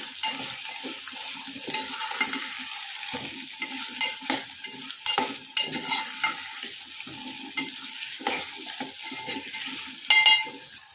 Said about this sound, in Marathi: आता आपण हे कापलेले बटाटे टाकूया ते सुद्धा छान तेलामध्ये परतून घेऊया